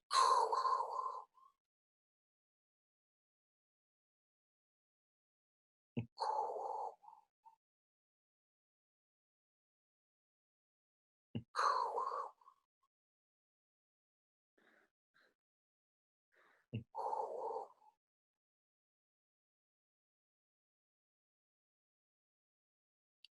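Slow, close breaths into a microphone come as four soft, separate exhalations spaced several seconds apart, with near silence between them.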